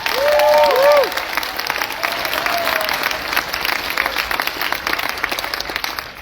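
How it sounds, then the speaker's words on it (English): A graduation ceremony audience for a school's Class of 2024 claps steadily for several seconds, a dense, even applause that starts loudest with a brief whistle and then carries on at a slightly lower level. "so we can clap for them as well"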